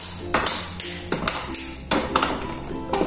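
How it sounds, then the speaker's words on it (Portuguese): A knife chopping a 150-gram bar of semisweet chocolate on a board, a series of sharp, close taps in an uneven rhythm, each with a bright ringing edge. "Então, vou estar picando aqui"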